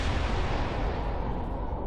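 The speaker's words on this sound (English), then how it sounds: "Here comes an explosion." Explosion in the Star Trek Resurgence video game, a sustained broadband rumbling blast that stays loud and even throughout without a sharp single bang.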